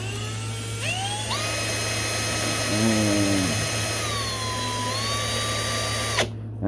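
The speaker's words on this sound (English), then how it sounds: "I'm just going to go with a smoother sandpaper, and this is 220." A small rotary power tool with 220-grit sandpaper sands the tip of a model aircraft gun, a steady high whine that shifts pitch as the load changes and then stops abruptly.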